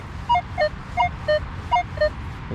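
A Minelab Equinox metal detector answers a deep, iffy target with a series of short, clear electronic beeps at shifting pitches, spaced roughly every quarter second over a low hum of ground noise.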